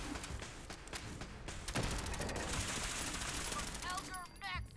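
Rapid turret gunfire in Fallout 4, a dense clatter of shots running through the whole stretch, loud and close, with game effects layered over it and no clear voice.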